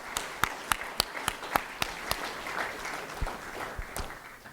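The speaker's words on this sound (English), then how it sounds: "So I want to give a round of applause to them." A small audience at a public library funding announcement gives a short round of applause, sparse claps ringing out at moderate distance, thinning toward the end.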